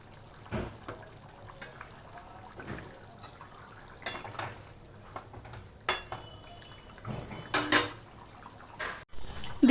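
Pieces of hilsa fish drop into a boiling potato curry, giving a low simmering bubble broken by a few sharp splashing, sizzling bursts, close and moderately loud with no talking.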